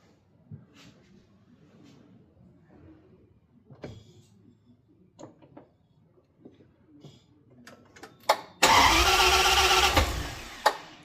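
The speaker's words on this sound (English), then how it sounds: "Go in and turn it over for me." A Volvo 123GT with a newly fitted injector is cranked over and catches, a loud burst of engine noise arriving late after quiet shop clatter and faint movement.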